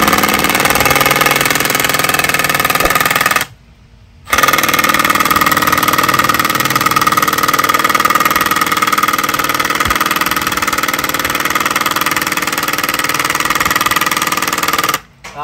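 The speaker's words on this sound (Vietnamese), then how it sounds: "Bắn vít gỗ khá là nhanh luôn, có chế độ là bắn ống vít tự động số 1 thì bắn khá là nhẹ nhàng" A Milwaukee drill drives wood screws in automatic mode 1 with a loud, continuous motor whine up close. It cuts out briefly once midway and again at the end.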